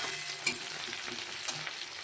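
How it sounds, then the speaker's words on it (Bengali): Chopped onion frying in hot white oil with whole garam masala, a steady bright sizzle at moderate level with a couple of sharp spoon clinks against the pan. "এবার পেঁয়াজ কুচিটা ভালো করে ভেজে নেবো তেলে।"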